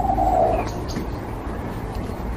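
Pigeons and other birds in a city park on a summer walk, with a short cooing call near the start and faint chirps over low street and traffic rumble.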